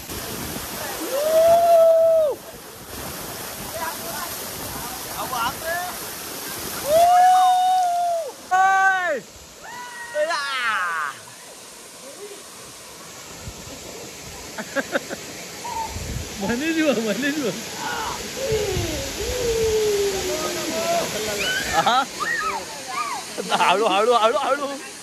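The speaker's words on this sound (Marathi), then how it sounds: "कल्प्या कसा वाटला वॉटरफॉल" A hidden waterfall near Shrivardhan rushes as a steady background hiss beneath several people talking and exclaiming close by throughout.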